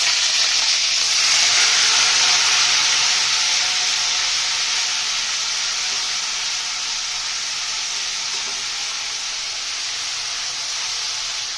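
Ginger-garlic paste sizzles loudly in hot oil with tempering spices of cumin, star anise, cloves and black pepper for Lahori chana, a steady bright frying hiss that eases slightly after the first seconds, with no voices.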